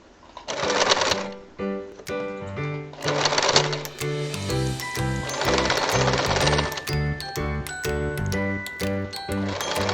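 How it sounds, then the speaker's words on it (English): A sewing machine stitching a cap sleeve onto fabric makes a rapid, rhythmic mechanical chatter in bursts, with pauses between runs and a steady stretch of stitching afterward. "very slowly and steadily maneuver the sleeve while sewing so as to reduce puckering and wrinkles"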